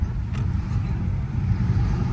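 A rear-wheel-drive 2010 Lexus LS460 with flood damage cruises on a road, its low engine and road rumble holding steady and close with slight swells, and no talking.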